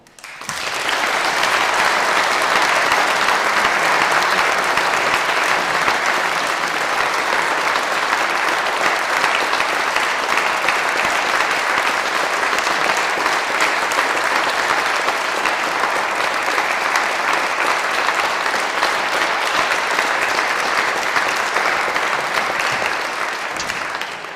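Sustained, loud applause from a ceremony audience at a British Empire Medal investiture in Peterborough, honouring a community service recipient; dense steady clapping fills the whole stretch without letup.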